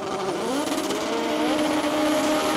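A front-wheel-drive drag race car, a Honda Civic, roars past at the finish line after an 11.49-second run at 130 mph, its engine note loud and sustained and sliding in pitch as it passes, with no voices.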